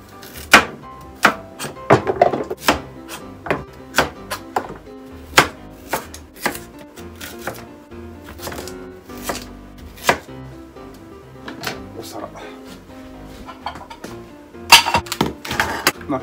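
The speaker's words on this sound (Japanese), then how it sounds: "さあ、人参をね、今度は切っていきますね。" Carrots chopped with a knife on a board: sharp, close knocks at irregular intervals, loud and alone, with a denser burst of cuts near the end.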